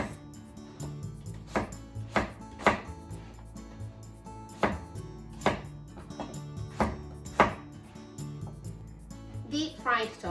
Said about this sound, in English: Cut it into half this way, then into bite size